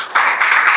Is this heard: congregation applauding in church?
yes